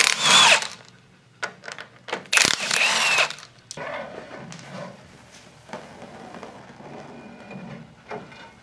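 Power tool, likely an impact gun, taking the bolts off a 14 bolt axle: loud close whirring bursts with pauses between them, followed by quieter clanking and rattling of tools and parts, no talking.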